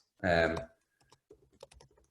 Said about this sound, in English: you can just type in egg white